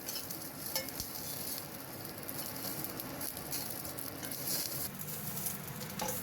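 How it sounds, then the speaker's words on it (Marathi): Green chillies frying in oil in a pan for a chutney, a steady moderate sizzle with soft pattering and occasional stirring scrapes, no voices. "आता मिरच्या घालून घेते आणि त्या आता छान खमंग परतून घेऊया."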